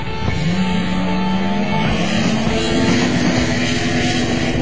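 Snowmobiles race down a grass drag strip in Manitoba, with loud, steady engine drone and a rising pitch sweep as they accelerate past, sustained throughout with no talk.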